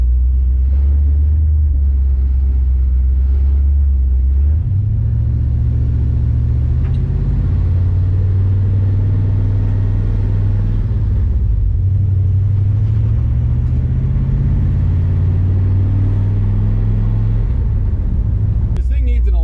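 A Chevrolet S10 pickup with a 400ci small-block V8 and five-speed manual rumbles loudly and continuously from inside the cab as it drives, its deep engine note rising and falling through shifts.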